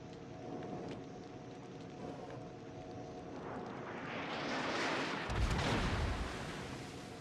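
Heavy ship guns fire in a naval battle game, a loud deep boom with a rushing roar that swells over a steady engine-like rumble, standing out clearly near the end.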